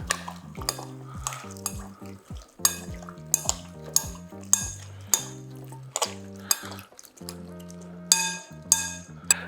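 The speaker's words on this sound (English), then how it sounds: "Give it a stir." Ma Po popcorn cauliflower and tofu being stirred in a pan, a close series of ringing metallic clinks and scrapes from a utensil striking the pan in a loose rhythm, with faint sizzling underneath.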